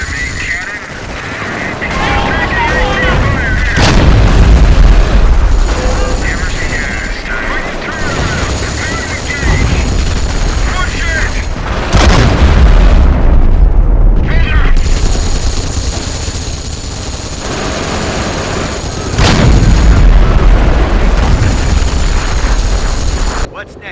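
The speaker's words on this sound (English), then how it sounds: "Fire me, cannon." Artillery and cannon fire booms through a Company of Heroes Blitzkrieg battle, the attack on Schweinfurt, mixed with constant gunfire and explosions while voices call out over the noise.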